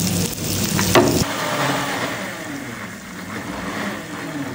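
Onions, ginger and garlic cooking in butter with a little water, a continuous close sizzle that starts with a brief clatter and then settles to a softer, steady hiss.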